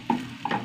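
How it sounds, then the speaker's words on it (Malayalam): Ginger, garlic and green chili sautéing in a pan, a soft sizzle broken by two quick stirring scrapes. "ഇഞ്ചി വെളുത്തുള്ളി പച്ചമുളകും കൂടി വഴണ്ട് വരട്ടേട്ടാ"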